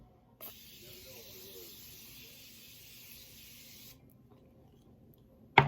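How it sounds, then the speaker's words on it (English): A fine Morphe setting spray hisses onto a face in one steady burst lasting a few seconds, close by, followed by quiet and a sharp click at the end. "I'm going to set it with another setting spray"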